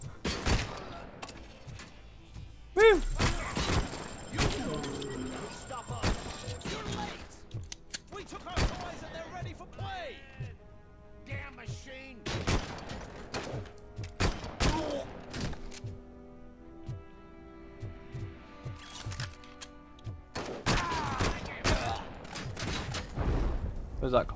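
Gunfire in a Robocop video game set in Rouge City: bursts of shots and rapid fusillades, some loud and close, scattered across the scene, with someone talking over and between them.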